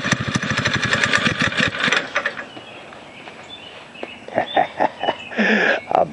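Springer motorcycle engine with a new exhaust runs out of gas, its deep rapid thumping faltering and fading, then sputtering in uneven bursts and pops before catching briefly again.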